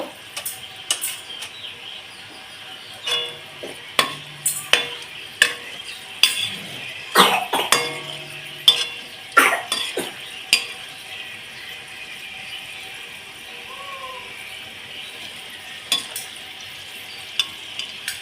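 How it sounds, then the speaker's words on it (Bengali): Dried red chillies frying in oil for a chana dal snack: a steady soft sizzle runs throughout, broken by frequent sharp scraping stirs and clinks of a utensil against the pan, close by with no talk. "শুকনো লঙ্কাটা আমি এর মধ্যে দিয়ে দিলাম"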